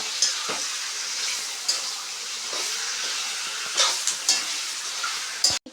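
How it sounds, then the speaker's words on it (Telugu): Chicken sizzles in a hot pan with turmeric and salt while a spoon stirs it. The steady frying hiss is close, and clinks and scrapes sound every second or so. Nobody speaks. "చికెన్ ఇప్పుడు దాన్ని వేసుకోవాలి ఫ్రెండ్స్ ఇప్పుడు కలుపుకుందాం"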